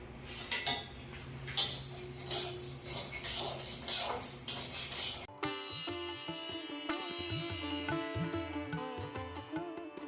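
Moong dal dry-roasting in a pan, with close metallic scraping and clinking from a stirring spoon during the first half, followed by ringing tonal sounds.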